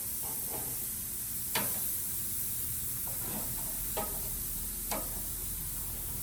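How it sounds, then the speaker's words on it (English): New York strip steaks sear in a hot pan with a steady broadband sizzle, broken by a few sharp ticks and pops from spattering fat as the meat is flipped. "it's a good idea to sear them on both sides"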